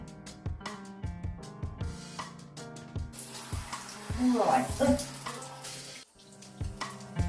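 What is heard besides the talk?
shower water running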